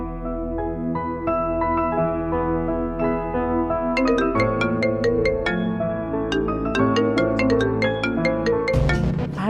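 A mobile phone rings for an incoming call, playing a loud, clear melodic ringtone of layered electronic notes that grows busier with bright plucked tones partway through and continues without speech.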